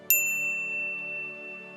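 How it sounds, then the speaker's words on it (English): A bright notification bell gives a single crisp ding that rings on with a clean, slowly fading tone. It stands alone with no talk. "ring the bell to get notified about our latest videos"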